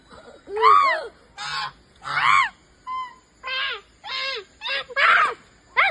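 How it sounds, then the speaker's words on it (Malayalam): A goose at a bird park in Wayanad, near Pookode Lake, honks loudly and close up in a series of about nine harsh, evenly spaced calls with brief gaps between them. "ഇതാണ് നമ്മുടെ ഗൂസ് വൺ"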